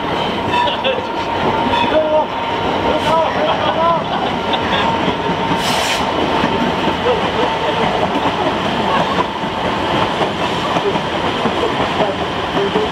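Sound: long train passing on railway

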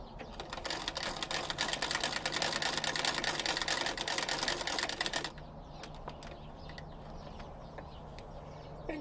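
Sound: 1871 treadle sewing machine stitching a seam

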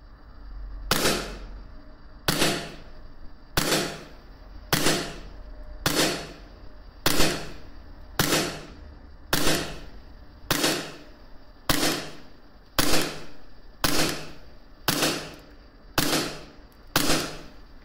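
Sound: KWA Beretta APX airsoft gas pistol shots at range

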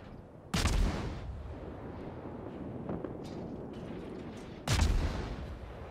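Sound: warship firing AP shells in World of Warships video game

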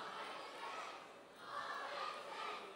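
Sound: crowd cheering at a charity gala

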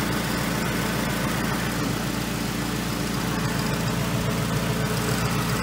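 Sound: 2002 Toyota Camry engine running

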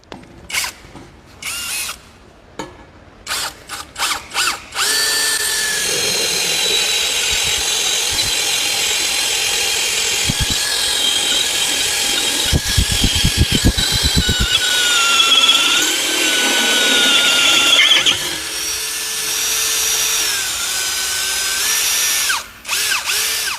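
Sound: STR cordless brushless drill drilling nearly 10 mm thick steel

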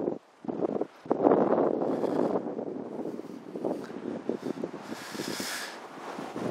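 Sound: wind on a windy day outdoors

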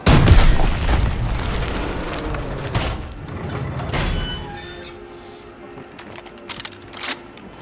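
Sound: bazooka explosions in video game Call of Duty WWII zombie mode

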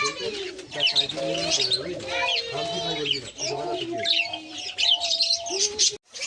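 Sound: pet birds chirping, cockatiels, Java sparrows, diamond doves

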